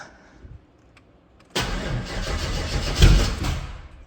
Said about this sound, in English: I'm gonna crank it for a few seconds and just see if it starts.